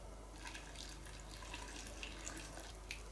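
Boiling water is poured from a pot into jars of green tomatoes, a soft, steady splashing trickle that is faint and close, with no talk.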